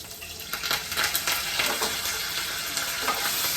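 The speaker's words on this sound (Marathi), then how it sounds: "कढीपत्ता घातल्यावरती चढचड आवाज येतो" Curry leaves crackle and spit in hot oil for semolina vermicelli upma, a dense continuous sizzle broken by sharp pops and the scrape of stirring, close and fairly loud with no voices.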